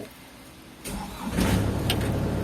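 An XCMG XE60DA excavator's diesel engine starting by push button, cranking briefly and then catching into a loud, rough idle close by.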